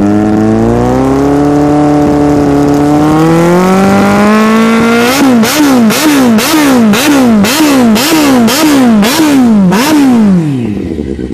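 A motorcycle engine climbs in pitch, then revs repeatedly in sharp rhythmic bursts, loud and close, before cutting off.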